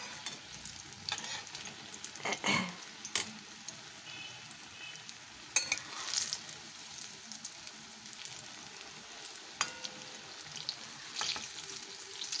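A batch of brinjal fritters (bora) frying in oil, a soft, continuous sizzle with intermittent louder stirring and spatula knocks, fairly quiet and without speech.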